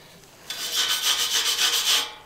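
Sandpaper rubs soot off metal welds in short, brisk back-and-forth strokes, a close, dry scratching burst lasting about a second and a half between quiet moments.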